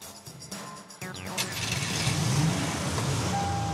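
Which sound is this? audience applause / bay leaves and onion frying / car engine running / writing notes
car engine running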